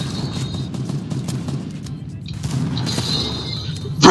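Fortnite gunfire in a firefight, rapid clusters of sharp shots with bursts of impacts, a dense, loud exchange that builds toward a heavy blast at the end.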